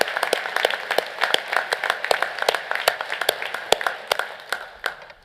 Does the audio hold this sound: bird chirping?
no